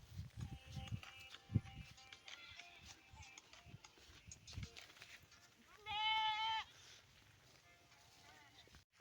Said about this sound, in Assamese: এইফালে চাওকচোন ছাগলীবোৰ চৰি আছে পথাৰত।